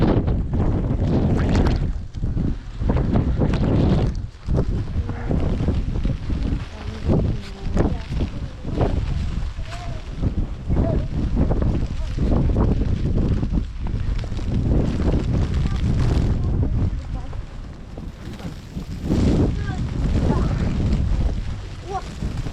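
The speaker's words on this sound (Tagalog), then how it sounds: "Medyo mahangin" Strong gusts buffet the microphone with rough, roaring bursts, while people talk intermittently over the blustery noise.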